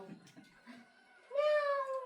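A person imitates a cat with one drawn-out, nasal meow after a few quiet murmurs.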